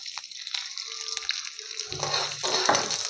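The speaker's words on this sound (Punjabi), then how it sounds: "ਜੀਰੇ ਨੂੰ ਵਧੀਆ ਜਿਹਾ ਭੁੰਨ ਲਾਂਗੇ ਬਰੀਕ ਕੱਟਿਆ ਥੋੜਾ ਜਿਹਾ ਲਸਣ ਪਾ ਦਾਂਗੇ" Whole cumin seeds roasting in hot oil with finely chopped garlic for a Punjabi okra (bhindi) dish, a steady close sizzle with crackling that swells louder toward the end, no talking.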